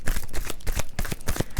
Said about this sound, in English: And they are shuffled, so we can get into this.